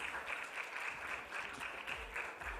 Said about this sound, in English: A big round of applause for Shri Irfan A.